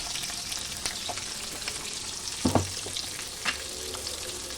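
Green chilies and onions fry in hot oil, giving a steady soft sizzle with a few brief clatters of stirring, no talk over it.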